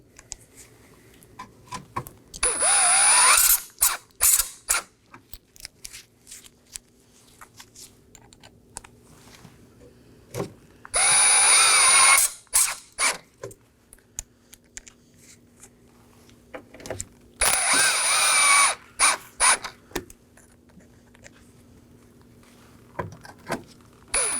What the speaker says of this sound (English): Now for our 6 T15 Torx screws on the grill. Just make sure they're snug.